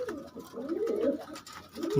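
Pigeons coo close by in a continuous, rolling series of low, throaty calls that rise and fall for about two seconds.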